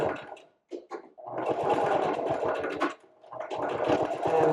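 Sewing machine running back and forth to back-stitch the end of a seam on a handmade wallet, a steady mechanical whir broken by a short pause and restarts, close and fairly loud.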